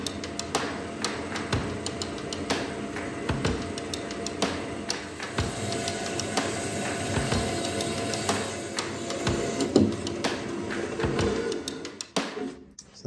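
A power saw cuts through a heavy piece of metal stock in a workshop making swage tools, producing a steady mechanical clatter with dense ticking strokes at moderate loudness that stops abruptly near the end.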